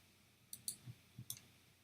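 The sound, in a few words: computer mouse right-clicking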